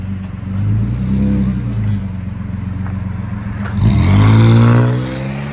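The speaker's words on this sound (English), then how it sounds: "Nissan Pathfinder with a Flowmaster Super 10 knockoff. Rear delete and bumper exit, side exit, rear bumper side exit." A 2005 Nissan Pathfinder 4.0L V6 with a Flowmaster Super 10-style muffler and a rear-bumper side-exit exhaust revs up, throaty and loud. The idle rumbles, then rises through a surge of revving near the end.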